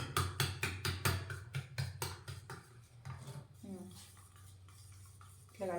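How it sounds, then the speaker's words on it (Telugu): Eggs beaten with plenty of chopped green chili, chili powder and coriander, a utensil clinking rapidly against the bowl in a quick rhythmic run that slows and fades, with a brief voice near the end. "కొత్తిమీర, ఇవన్నీ అయితే వేసి మంచిగా బీట్ చేసుకోవాలి ఎగ్స్ ఇవి."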